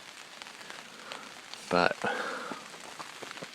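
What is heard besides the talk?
rain falling outside a tent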